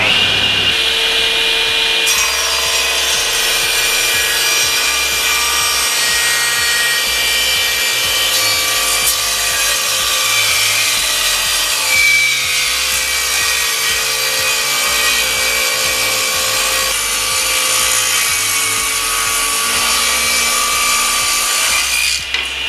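A SIP cast iron table saw cutting wood, its loud, steady motor whine and blade rasp running continuously for the whole stretch with no talking.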